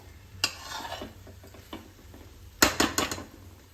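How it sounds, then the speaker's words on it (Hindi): Okra being stir-fried with salt in a pan: a low sizzle under scattered spatula scrapes and knocks, then a quick burst of several loud clanks near the end. "अब भिंडी को नमक के साथ मिलाते हुए 1 मिनट तक इस तरह से हमें भून लेना है"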